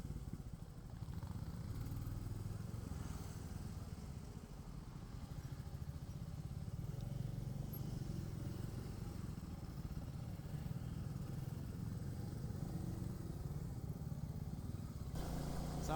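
A Royal Enfield Classic 350 motorcycle rides through traffic on a road out of Delhi toward Shimla, its engine a steady low rumble with wind noise that holds throughout, without clear talk over it.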